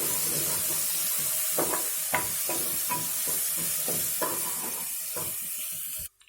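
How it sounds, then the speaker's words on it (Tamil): Onion, ginger-garlic paste and tomato sautéing in a pan for mutton fry, a steady close sizzle with repeated stirring scrapes at an even rhythm, no talk, ending abruptly. "வதங்கினோடனே தக்காளி போட்டு நல்லா வதக்கிக்கலாம்."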